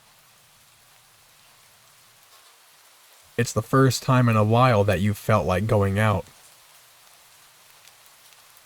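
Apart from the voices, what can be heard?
rain falling in a video game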